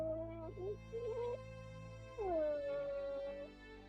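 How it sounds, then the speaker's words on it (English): A pet dog whines and howls for attention indoors, with a few short whimpers followed by a longer drawn-out howl, fairly faint and close by, with no talk over it. "I apologize if y'all hear my dog begging for attention."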